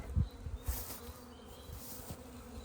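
Honey bees buzz steadily around a beehive nuc, a dense close hum with a few louder passes near the start.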